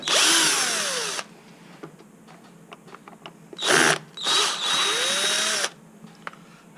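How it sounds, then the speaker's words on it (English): A cordless power screwdriver backs out two Phillips screws from the rear of a cowling during a battery connection replacement, whirring in three loud close bursts with quiet handling noises between. "we'll begin by removing these two screws at the back using a Phillips head screwdriver"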